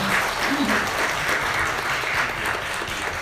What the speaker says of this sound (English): another warm round of applause for our speakers today